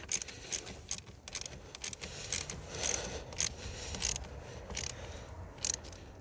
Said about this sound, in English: Let's go ahead and tighten this terminal back down.